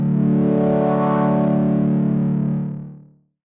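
A Prophet 12 synthesizer "Chariot Swell" patch with feedback overtones holds a thick, buzzy sustained tone rich in harmonics for about two and a half seconds, then fades out smoothly.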